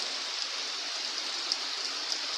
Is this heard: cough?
no